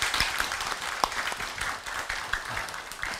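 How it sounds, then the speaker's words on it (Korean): Audience applause welcoming a retiring law professor at a university seminar on constitutional revision, a moderate steady patter of many hands clapping throughout with a few sharper individual claps standing out. "우리 박홍규 교수님을 아주 큰 박수로 맞이해 주시면 고맙겠습니다."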